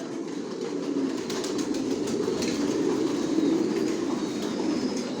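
Racing pigeons crowded in a loft keep up a thick, unbroken cooing hum, close and even in level, without any speech.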